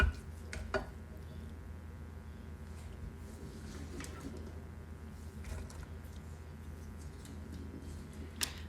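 Ground beef is broken up with a meat masher, giving soft repeated squishes and occasional clicks against the pan over a low steady hum, with no talking.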